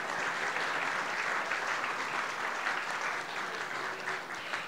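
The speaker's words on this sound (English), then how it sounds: "let's applaud them" A church congregation at a Sunday service in Palm Desert applauds newcomers with dense, sustained clapping that holds steady and loud before easing slightly at the end.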